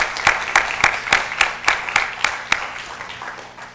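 An audience applauds a thoracic surgeon at a Southern Thoracic Surgical Association meeting, giving steady close clapping with distinct sharp claps standing out at first, then slowly tapering.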